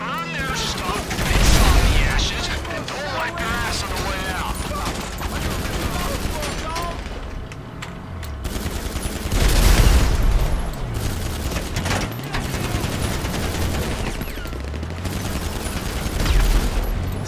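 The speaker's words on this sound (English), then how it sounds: "Something's got heavy weapons coming at me from this side." Heavy weapons fire in a shooter video game, dense continuous gunfire with louder bursts and booms, someone talking over it throughout.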